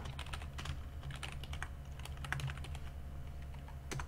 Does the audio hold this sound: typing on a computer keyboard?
yes